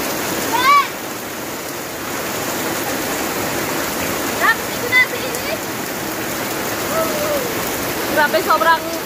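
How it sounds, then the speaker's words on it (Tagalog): Heavy rain pours down in a dense, unbroken hiss, with brief excited voices and squeals rising over it now and then. "sobrang lakas ng ulan"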